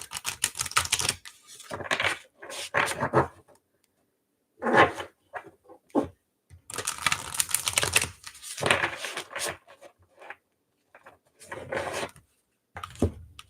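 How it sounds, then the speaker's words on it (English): Tarot cards are shuffled in repeated bursts of crisp riffling and slapping, separated by short pauses of quiet. "Did you guys hear me shuffle? I shuffled."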